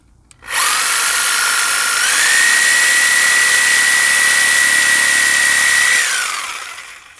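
A power saw cuts through the trunk of a real Christmas tree at a tree lot, a loud steady whine for about five seconds that rises in pitch partway and then winds down, with no talk.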